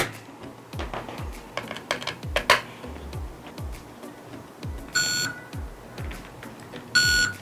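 Pocket Pro II shot timer fitted with a headphone jack, giving two loud sustained electronic beeps through the headphone output over a background of repeated clicks and taps.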